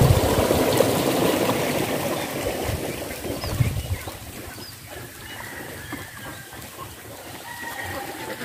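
A river flowing steadily nearby, its broad rushing wash loudest at first and then settling into a softer continuous trickle, with faint bird calls in the background.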